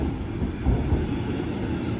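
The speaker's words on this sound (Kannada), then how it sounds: "ನೋಡಿ, ಇದು ಏರ್ಪೋರ್ಟಿಗೆ ಕರ್ಕೊಂಡು ಹೋಗ್ತದೆ ಇದು ಟ್ರೈನ್" A regional express train to the airport, on a Berlin to Copenhagen route, rumbles steadily with a low, constant rolling roar and faint rail clatter, no voices.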